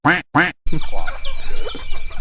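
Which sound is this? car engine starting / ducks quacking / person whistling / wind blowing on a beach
ducks quacking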